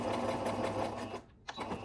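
A sewing machine running a continuous 5/8-inch straight stitch on a New Look 6737 garment, a steady close mechanical whir that breaks off briefly near the end and then resumes.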